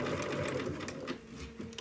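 A sewing machine runs steadily, stitching two pieces of fabric together for a dog's Fourth of July party outfit, a continuous close mechanical whir with a slight dip near the end.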